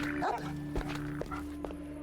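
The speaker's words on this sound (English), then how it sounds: "Puppy." A puppy in the Van Helsing action role-playing video game gives a short, high bark with a whimpering edge, then a few faint yips over a steady droning background tone.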